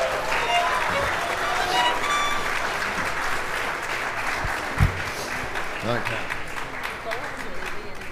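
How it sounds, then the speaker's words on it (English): A small group applauds sight readers during a live stream, a moderate patter of clapping under a speaking voice, with a brief thump partway through. "that deserves a round of applause."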